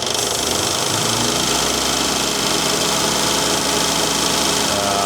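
A Morris Minor engine runs rich while its carburettor is being tuned, making a steady, dense mechanical drone with a fast, even beat that stays loud and close throughout, with no voices.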